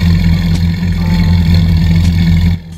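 Fontan 34 cat powerboat engines idling in Roblox, a loud, steady low rumble with a throbbing pulse, close and alone, cutting off abruptly at the end.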